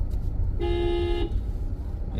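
A car horn sounds in one steady honk lasting under a second, loud over the low rumble of a car's engine on a street during a driving lesson.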